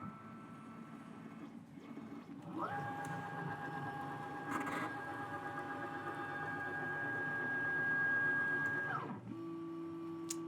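A Carvera Air desktop CNC machine runs a probe calibration routine, giving a steady mechanical whine with a sustained tone that holds for several seconds, then drops to a lower hum.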